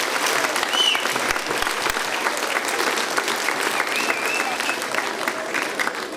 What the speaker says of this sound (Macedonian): Еден најголем аплауз за сите овие